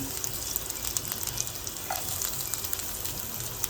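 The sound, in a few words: ginger and garlic sizzling in hot oil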